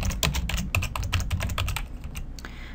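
Rapid, continuous keystrokes on a computer keyboard while a message is entered into an Excel VBA message box, close and fairly loud, with no talking.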